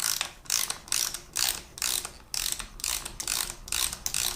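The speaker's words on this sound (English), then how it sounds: "I'm gonna start it with the regular socket here" A socket wrench ratchets a bolt on a Harley-Davidson Screaming Eagle K&N air filter, giving a steady, rhythmic run of close clicking strokes with no talk.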